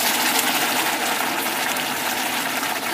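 Water poured steadily into a cooking pot for white rice, a dense continuous splashing gush that stays loud and even throughout, with no voices.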